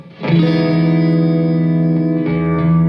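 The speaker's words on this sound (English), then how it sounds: "not very much noticeable chorus and a shorter delay time" A sustained electric guitar chord rings out through a Keeley Realizer reverb pedal with a gentle chorus shimmer and short delay echoes, then is restruck near the end.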